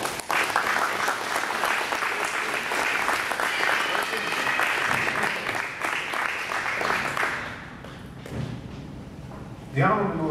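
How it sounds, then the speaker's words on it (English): Loud, sustained clapping from an audience at the NBUF Sankofa Caravan to the Ancestors event, a dense rattle that holds for several seconds, then thins out and fades before a brief burst near the end. "I believe that they deserve a round of applause"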